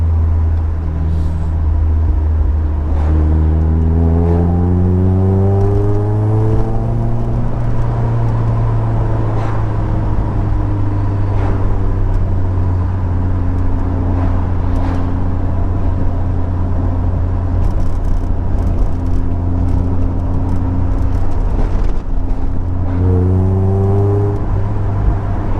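Steady engine drone from a car driven on the road, holding low and then rising and falling through gear changes, continuous and close, with no voices.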